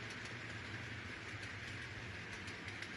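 Model train running on a New York Central Hudson Division layout, a faint steady rolling hum with light rhythmic clicks over the rails, continuous and without voices.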